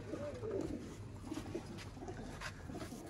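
Breeder pigeons cooing, with soft low throaty coos repeating through a short stretch over a light background hiss.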